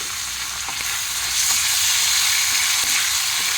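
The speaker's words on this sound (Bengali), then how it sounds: "সবগুলোকে আমি এভাবে করে নেড়ে চেড়ে মিশিয়ে নেব" Onion stirred in a hot pan with soy sauce and tomato sauce, a loud continuous hiss of frying with faint scrapes of the spoon, close up and without speech.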